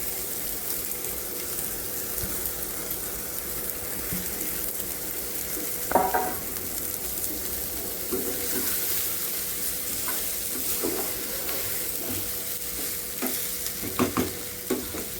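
Spiced masala being stirred into roasted eggplant in a hot pan for vangyache bharit, with steady sizzling and frying underneath and a few louder scraping strokes of the spoon.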